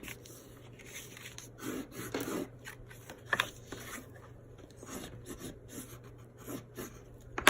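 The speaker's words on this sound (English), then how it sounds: "I'm going to burnish this down." Folded cardstock for a pillow box is burnished flat with a tool, giving soft, close rubbing strokes in short irregular passes with a quiet hum underneath and no talking.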